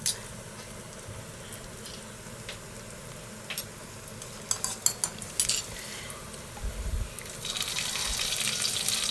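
Small chopped onions fry in coconut oil with a low, continuous sizzle, while a utensil clinks and scrapes against the pan and the frying swells louder toward the end.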